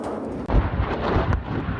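An ammunition depot in a war zone explodes, with buildings burning, producing a continuous rumbling barrage of deep booms and cracks, with a sharp blast partway through, loud and sustained.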